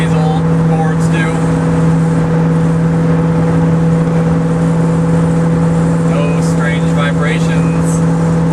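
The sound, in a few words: 1972 Ford Gran Torino Sport Fastback driving on the road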